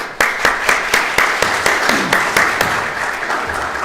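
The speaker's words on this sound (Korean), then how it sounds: "자, 하나님께 영광의 박수." A congregation claps at a Korean church's 32nd anniversary thanksgiving service in Cape Town: sharp, loud claps fall in a steady rhythm, about four per second, over a low murmur of clapping.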